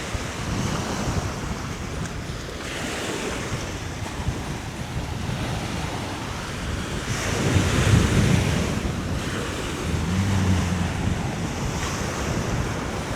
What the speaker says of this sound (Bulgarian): И има огромни вълни, както вече се разбра.